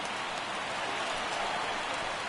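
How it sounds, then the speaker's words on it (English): Heavy rain pours down during an MLB The Show 2019 baseball game between the Phillies and Mets, a loud, dense, constant hiss of drops with no voices over it. "The rain starting to intensify here. It's coming down a little heavier now."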